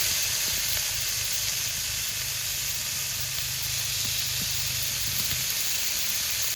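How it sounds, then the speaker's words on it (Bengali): Water lily stems fry with turmeric in a pan, giving a steady close sizzle and hiss with faint stirring scrapes and taps throughout, and no one talking. "কাবলাটাকে একটু নেড়ে চেড়ে ভেজে নেব"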